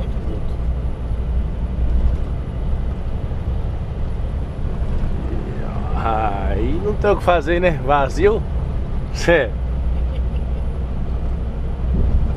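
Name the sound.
loaded Scania P310 truck engine accelerating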